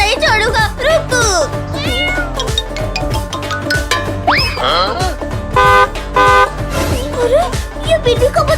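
Cartoon kitten meowing repeatedly while driving a car, with bright high meows, horn-like toots and bouncy music under the sound effects.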